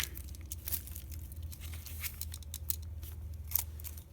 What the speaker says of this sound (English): I'm going to just finish ripping it.